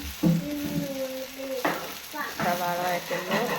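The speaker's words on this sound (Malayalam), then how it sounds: "അപ്പോൾ നമ്മൾ സവാള അതേ നന്നായി വഴറ്റിയെടുക്കുന്നുണ്ട്" Finely chopped onions sautéing in a pan for egg roast, sizzling and frying steadily while being stirred, with a voice briefly heard over it.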